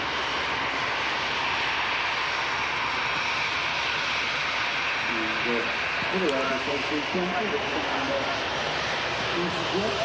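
EasyJet airliner arrived from Amsterdam at Manchester Airport, its engines a steady broadband roar throughout, with a voice talking partway through.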